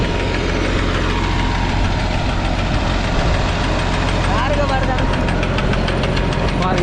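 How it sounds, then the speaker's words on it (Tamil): A tractor engine runs steadily and loudly with a constant low rumble and rhythmic knocking during tractor-pulled fishing; a person speaks over it. "பாருங்கள், இது இந்த பக்கம் ஒரு டிராக்டர்,"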